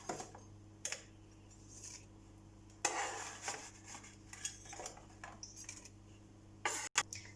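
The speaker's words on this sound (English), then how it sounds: "so we'll just mix in the chips into the sauce" Fried potato chips being stirred into masala sauce in a large pot, giving soft scraping and clinking of a utensil against the pot in scattered bursts over a low steady background hum.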